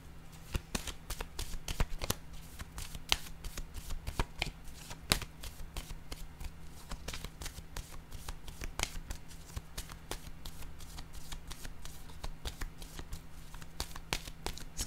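Tarot cards handled and laid down one after another in a steady stream of crisp slaps and riffles, close and fairly quiet over a low steady hum, no talking.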